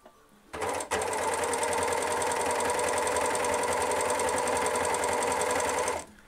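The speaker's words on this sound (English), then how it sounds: "now you're ready to do a three-thread overlock seam" An overlocker sews a three-thread overlock seam, starting with a click, then running at a fast, even whirring stitch for about five seconds up close before stopping abruptly.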